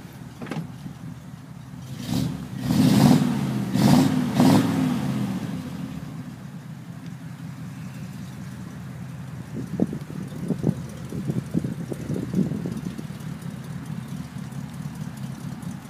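A 1941 Ford coupe engine turns over with a few loud revs, then settles into a low, steady idle with occasional light blips of the throttle.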